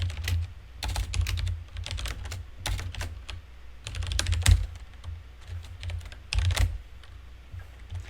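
Fingers type a sudo command on a computer keyboard, a close run of quick clattering keystrokes in uneven bursts with brief pauses and a few heavier taps.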